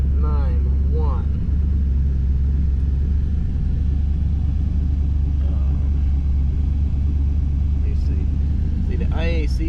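Chevrolet Camaro Z28 V8 with a big camshaft idling with a deep, loping rumble close by, steady throughout while someone talks over it.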